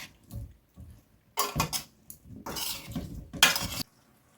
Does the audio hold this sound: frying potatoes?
yes